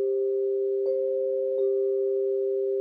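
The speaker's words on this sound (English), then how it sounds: "Now you can get much softer mallets that make the sound a lot mellower" A soft, yarn- or cord-wrapped mallet strikes a tuned percussion bar, giving a mellow, steady ringing tone with two faint soft taps layered over the sustain.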